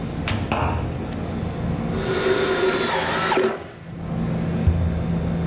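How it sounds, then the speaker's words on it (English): Power drill driving a self-tapping screw into a vehicle frame, one loud close whirring run of about a second and a half that ends abruptly, set against quieter workshop noise. "use another self-tapping screw to go directly into the frame"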